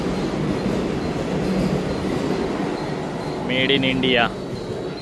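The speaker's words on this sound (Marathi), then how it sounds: "ही बघा वंदे भारत गेली" A Vande Bharat express train rushes past a station, its steady rumble and wheel noise running under people talking nearby, with a brief high squeal near the end.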